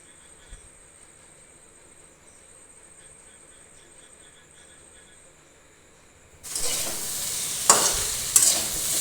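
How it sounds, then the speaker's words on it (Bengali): Vegetables hit a hot pan for khichuri and burst into a loud, steady sizzle after a quiet start, with a few sharp stirring clatters near the end. "সবজিগুলো দিয়ে সবজিগুলো আমি কিছুক্ষণ ভাজতে থাকবো।"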